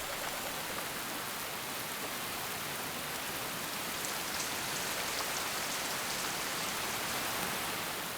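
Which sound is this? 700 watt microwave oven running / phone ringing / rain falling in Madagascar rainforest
rain falling in Madagascar rainforest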